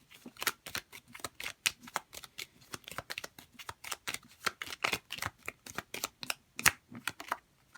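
Tarot cards shuffled and drawn by hand, a quick run of crisp riffling snaps and slaps in an uneven rhythm, close and fairly quiet, with no talk.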